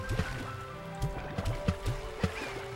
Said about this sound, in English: What if I throw water at it?